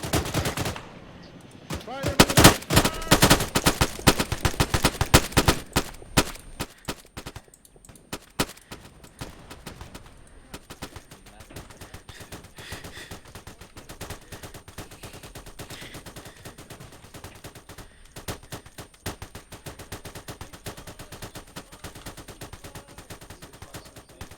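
A fire support group opens up with gunfire in the Arma III military video game, beginning with a loud, dense burst of rapid automatic fire and then settling into lighter, sustained crackling gunfire that continues in the distance.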